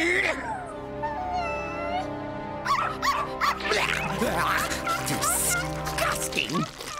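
A cartoon dog whimpers and yips in high, wavering cries after being scolded, sounding close and fairly loud alongside other animated vocal sounds.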